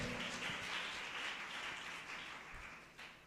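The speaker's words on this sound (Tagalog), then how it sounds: "Yung malakas na palakpak para sa Diyos." A church congregation claps for God at a JMCIM worship service in San Carlos City, Pangasinan, a broad steady wash of applause that holds for several seconds at moderate distance, with no voices over it.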